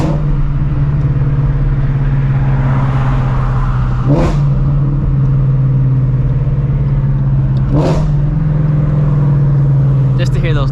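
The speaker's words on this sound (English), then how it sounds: "Just to hear those downshifts, man." A Ford Shelby GT350 engine revs and downshifts, a steady loud engine drone with two sharp rev blips on the downshifts, recorded close by with talk over it.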